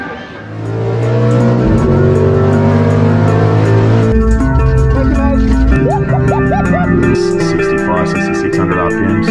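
A nearly 30-year-old Ford ED XR6 revs hard through its gears on a baseline acceleration run, the loud engine note climbing and dropping with each shift and running continuously close by.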